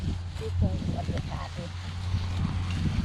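Outdoor wind buffeting the microphone in low, rumbling gusts, with someone talking over it and faint scattered background sounds.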